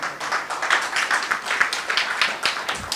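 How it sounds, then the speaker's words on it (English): A small audience at a Toastmasters club inauguration in Singapore gives a brief round of clapping, uneven individual claps close by with no talk over them. "A round of applause for him again."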